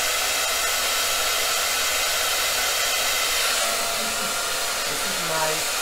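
A hair dryer on a medium heat setting blows with a steady, loud, continuous whoosh and hum, close by and alone.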